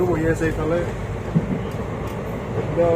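A moving train rumbles steadily, heard from inside the carriage, while people talk loudly over the constant rolling noise.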